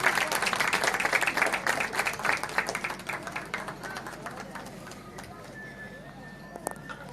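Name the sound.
audience applause at a rodeo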